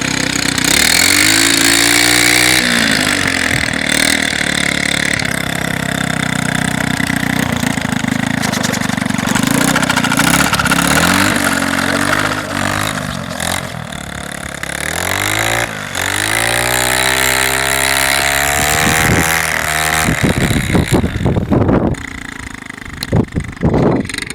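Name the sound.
motorized snow scooter engine running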